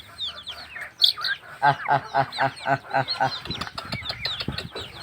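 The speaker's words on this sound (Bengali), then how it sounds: "এই দেখতেছেন মুরগিগুলো খুব তৃপ্তি সহকারে খাইব তারা, কারণ ভিজা খাবার" Backyard chickens eating wet feed of ground maize, soybean and dried fish, clucking and calling in a rhythmic series of close squawks under a background of pecking and shuffling.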